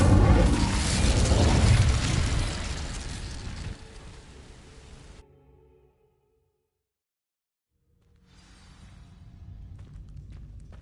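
Incendio fire spell cast in Hogwarts Legacy, bursting out as a loud roaring whoosh of flame that slowly fades, followed by silence and then a faint rumbling ambience returning.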